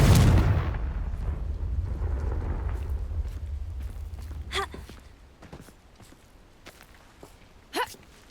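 A Confringo fire spell from Hogwarts Legacy bursts with a loud, low explosive boom that rumbles and fades over several seconds, followed by sparse crackles and a sharper blast near the end.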